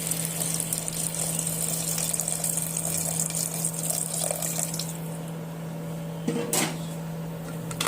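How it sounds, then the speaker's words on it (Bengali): Water pours steadily into a pot of chickpeas and potatoes cooking for ghugni, a continuous close gushing splash that runs for several seconds and then eases slightly, with no voices. "এবারে মধ্যে পরিমাণ মতো জল অ্যাড করে দিতে হবে"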